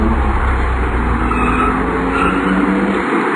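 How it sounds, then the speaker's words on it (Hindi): A car engine runs loud and steady as the car pulls away fast from a hotel, with tire noise under a continuous roar. "गाड़ी शुरू हो जाती है"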